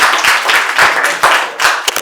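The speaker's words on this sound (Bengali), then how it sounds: "হাততালি দিন।" An audience claps at a quiz prize-giving held at a medical college in Santiniketan. The bursts of applause are loud and close, with uneven, lively hand claps throughout the short moment.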